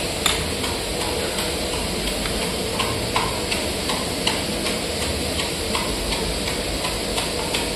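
Fish curry boiling in a pan gives a steady, moderately faint bubbling hiss with small irregular pops and ticks, and no talking.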